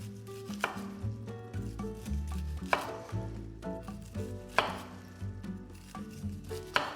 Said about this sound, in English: what we're gonna do is just take the corn off the cob with a knife